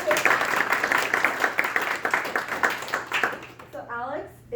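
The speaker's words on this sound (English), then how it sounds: "Let's give him a round of applause." An audience at a food and biotech investor panel applauds a speaker, bursts of many hands clapping that rise and fall over several seconds, then fade into a short stretch of quiet with a faint voice at the end.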